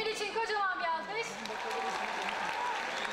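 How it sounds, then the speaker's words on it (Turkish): An audience applauds for Emin in a studio, clapping that rises and holds under a voice speaking over it. "Emin için kocaman bir alkış."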